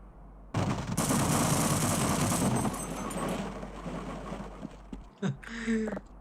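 Rapid submachine gun fire in Half-Life, a long loud burst of automatic shots that runs for several seconds, then tails off into a few scattered shots and game noises.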